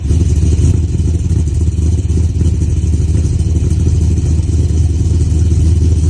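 An LS1 V8 in a Holden VN Commodore idles through a full-length twin 3-inch exhaust merging into a single 3.5-inch pipe with one muffler, a deep, steady, loud burble close by, with no talking.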